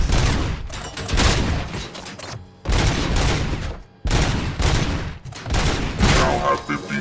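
Gunfire in the RoboCop video game rattles in dense, loud bursts of rapid shots, separated by brief pauses.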